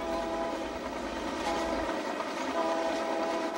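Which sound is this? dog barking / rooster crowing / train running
train running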